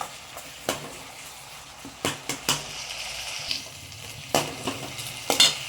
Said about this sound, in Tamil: தக்காளி வந்து பாதி அளவுக்கு நல்லா வதங்கிடுச்சு